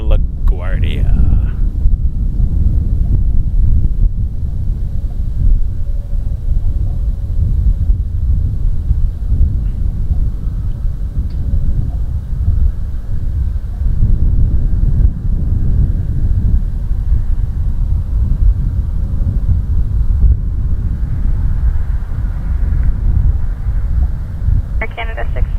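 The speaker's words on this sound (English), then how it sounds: "Crossing the 401 now, Embraer 175, Jazz" Jazz Embraer 175 airliner passing overhead on approach near Toronto Pearson, a steady low rumbling roar with wind buffeting that holds throughout, joined by faint voices.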